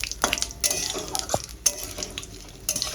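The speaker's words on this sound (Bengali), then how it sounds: "ফোড়নটা একটু হালকা ভেজে নেব" Whole cumin seeds and bay leaves fry in hot oil, a light sizzle under intermittent scraping and clinks of a utensil against the pan, close by.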